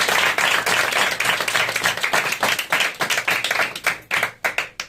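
A congregation in a church in Koraput claps hands together, a loud, close burst of many overlapping claps that gradually thins into distinct, sharper rhythmic claps before fading.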